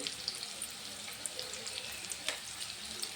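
Chopped onions fry in a pan with a steady close sizzle, dotted with small crackles and pops, moderately loud and with no voices.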